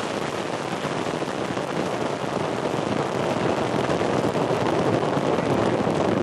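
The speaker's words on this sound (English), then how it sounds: "we have liftoff of an ILS Proton rocket on the Baikonur Cosmodrome in Kazakhstan" Roar of an ILS Proton rocket lifting off from the Baikonur Cosmodrome in Kazakhstan, heard as a steady, dense broadband rumble that holds loud and unbroken throughout, with no voices.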